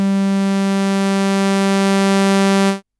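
A Modal Cobalt8 synthesizer's first oscillator holds a steady triangle-wave tone, alone and loud, with a bright stack of harmonics that sustains for nearly three seconds before cutting off abruptly.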